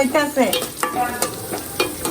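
Yesterday's fried beef is reheated in a pan: steady sizzling with repeated scraping stirs of a utensil, close and fairly loud, no talking.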